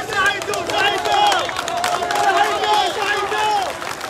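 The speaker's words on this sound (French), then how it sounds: "On entend des hurlements" Crowd of protesters shouting and screaming during a police standoff at a roundabout, a continuous sustained roar of many voices with higher wailing cries rising and falling throughout, fairly close and loud.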